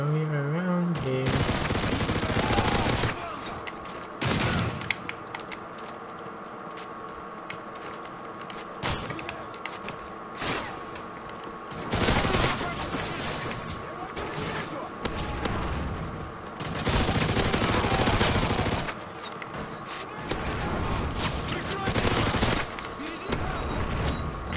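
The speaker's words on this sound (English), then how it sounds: "it shoots a bit slower than the other machine pistols" Machine pistol fire in Modern Warfare 3 on the Village map, repeated rapid bursts of gunfire in loud clusters with pauses between them, heavy game noise throughout and a voice talking over parts of it.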